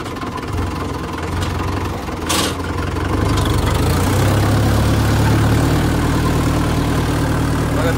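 A tractor engine with a knocking fault runs at a steady idle, a loud low rumble that thickens and grows after a few seconds, with a brief clank near the start.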